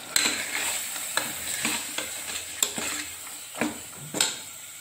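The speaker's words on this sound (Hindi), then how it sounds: "अब इसमें मैं ये 100 ग्राम भीगे हुए चने ऐड कर दूंगी" Soaked chickpeas, 100 grams, go into a pan of frying food for a kanya pujan thali and are stirred, with a steady sizzle under repeated spoon scrapes and clinks against the pan.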